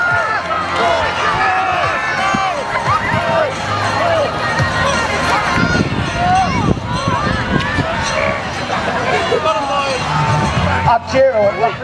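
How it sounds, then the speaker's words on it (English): A village fete crowd shouts and cheers on a tug of war, dense overlapping voices yelling continuously at close range with scattered louder calls throughout. "Let's hear some encouragement from the crowd."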